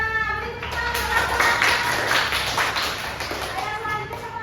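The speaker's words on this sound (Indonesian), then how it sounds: "beri tepuk tangan" Classroom applause from schoolchildren during a speaking lesson, a steady wash of many small hands clapping for several seconds at moderate loudness, with faint voices mixed in.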